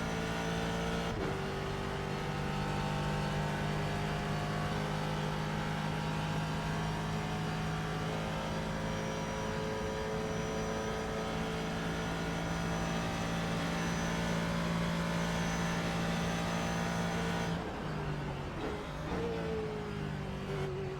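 A Ford GT race car engine in the iRacing simulator at the 24 Hours of Le Mans drones loudly and steadily at high revs, with brief pitch drops at gear shifts near the start and near the end.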